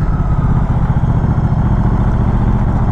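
A 2023 Moto Guzzi V100 Mandello idles close by, its exhaust giving a steady, loud, low burbling thrum with a slightly uneven pulse and no voices over it.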